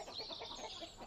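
A few chickens cluck softly in quick, irregular clucks over a faint farmyard background, brief and quiet with no talk.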